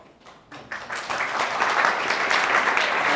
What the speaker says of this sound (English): He thinks y'all are clapping for him, so he gets excited